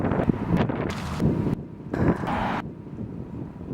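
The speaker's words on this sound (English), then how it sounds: "it's a pretty windy day out." Gusty wind of over 20 mph buffets the microphone with loud low rumbling bursts that rise and fall, no voices.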